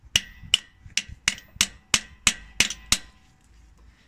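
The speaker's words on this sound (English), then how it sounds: "Tap that in there, make sure it's good and tight" A hammer taps a part into a vehicle differential during an oil change: eight sharp, close metallic knocks in a steady rhythm, then a short quiet pause.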